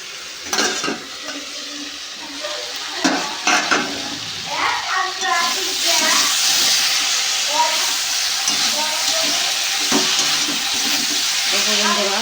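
Fish and mixed vegetables cook covered in a pan as a spicy chorchori, with a steady close sizzle and hiss throughout, marked by a few knocks and stirring clatters early on.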